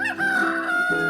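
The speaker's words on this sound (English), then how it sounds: "Cock-a-doodle-doo." A rooster crows a single drawn-out cock-a-doodle-doo, loud and near, the call rising then trailing off.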